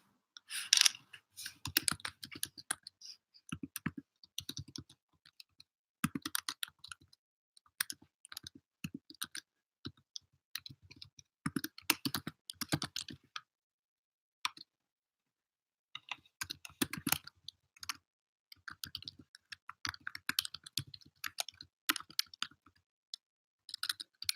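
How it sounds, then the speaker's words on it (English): Computer keyboard typing into a chat during an online meditation session, with bursts of quick clicking keystrokes separated by short pauses, fairly close and with no talking. "I'll actually type into the chat for anyone who's joining us."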